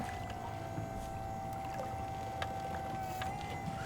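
Two boat motors run in reverse on a river with a steady engine drone and a sustained tonal hum throughout, with faint wind noise.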